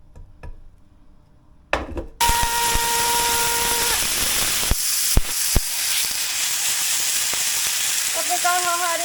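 Food frying in a hot pan until golden and crispy, a steady loud sizzle that starts abruptly after a few quiet knocks and continues with occasional clacks of a utensil.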